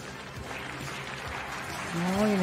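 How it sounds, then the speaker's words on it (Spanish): Stadium crowd at the Herning Grand Prix dressage event applauding, a steady wash of clapping that swells louder toward the end under a voice. "Oh, el estadio le aplaude."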